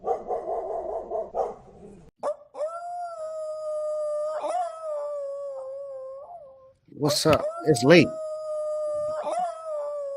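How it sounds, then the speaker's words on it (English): A dog barks and lets out long, wavering howls close by just after midnight, the drawn-out wails filling most of the stretch, while someone talks briefly at the start. "dog won't stop barking"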